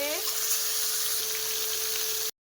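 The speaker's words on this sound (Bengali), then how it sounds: "মাছগুলো তেলে ছেড়ে দিচ্ছি একটা একটা করে।" Pieces of fish frying in hot oil for a Bengali-style curry give off a loud, steady sizzle that fills the whole stretch, ending abruptly. A faint tone sits underneath and no one speaks.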